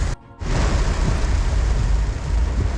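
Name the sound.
heavy rain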